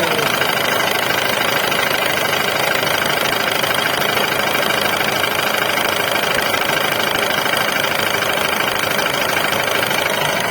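An electric air compressor motor runs continuously and loudly with a harsh, buzzing mechanical rattle while building pressure, holding steady for the whole stretch with a voice faintly present beneath it.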